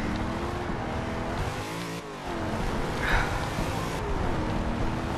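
Chevrolet Corvette Stingray engine droning steadily in the racing game Forza Horizon 2, a continuous loud motor hum with slight revving shifts and a brief dip midway, game sounds layered over it.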